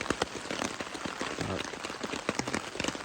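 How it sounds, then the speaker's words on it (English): Rain falling on the river flats during an afternoon deer stalk, a close, dense patter of drops hitting surfaces, steady and moderately loud with no talk. "We're hoping that this rain might get the deer moving around a little bit."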